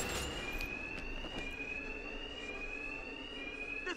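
An alarm in the video game Batman: Arkham Knight, a steady high-pitched ringing tone holding throughout, moderately loud over faint background noise, with no voices.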